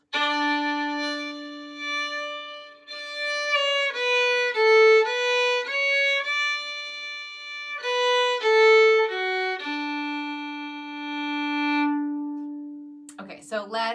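Solo fiddle plays the top phrase of the old-time waltz Midnight on the Water, a clear sustained melodic line of bowed notes over a steady low drone, ending with a brief scrape.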